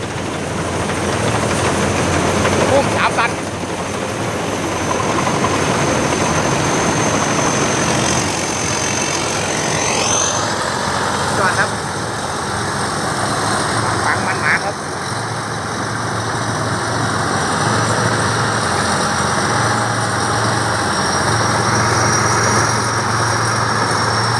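A combine harvester's steady, droning engine runs continuously at close range, with a low rumble and a high whine above it, changing little over the whole stretch.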